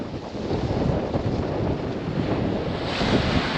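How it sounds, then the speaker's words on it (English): Strong coastal wind roars steadily across the microphone at a winter shore during ray fishing, with constant buffeting and a wash like surf underneath, loud and unbroken throughout with no voices. "Well, this wind is properly picking up now."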